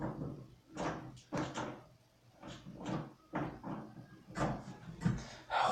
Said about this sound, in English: Who's trying to open the door?